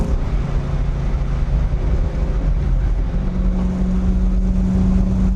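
A 1971 Alfa Romeo Montreal with a five-speed dogleg gearbox drives along, its engine a steady, loud drone heard from inside the car, with the pitch rising after a shift partway through.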